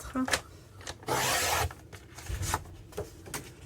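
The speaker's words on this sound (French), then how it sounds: "Donc je découpe un premier morceau de 16 cm" Scissors cut a 16 cm piece from a sheet of album paper in short rasping snips, with one longer, louder cutting stroke in the middle, close and alone in a quiet room.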